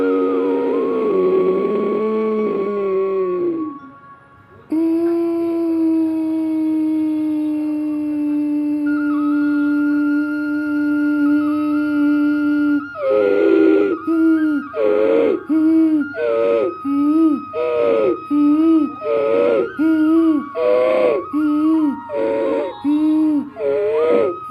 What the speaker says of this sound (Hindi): ये कपूत उज्जाई, कबूतर की तरह कंठ से आवाज़ आ रही है।